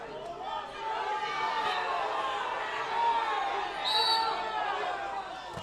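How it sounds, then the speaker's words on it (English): Spectators at a UCLA versus USC women's water polo match keep up a sustained, loud crowd roar with cheering, while a commentator talks over it. "Crowd still super loud right now."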